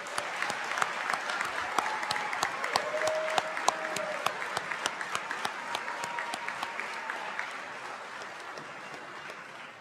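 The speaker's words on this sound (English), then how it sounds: "give a round of applause to our wonderful graduates." A crowd claps steadily in sustained applause for graduates at a high school graduation ceremony, loud at first and gradually fading, with a few scattered voices underneath.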